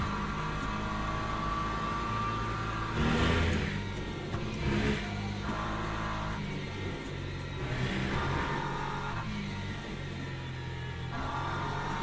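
A race car engine idles with no throttle applied in the sim racing game Le Mans Ultimate, a steady droning hum with a few brief swells, heard alone with no talking.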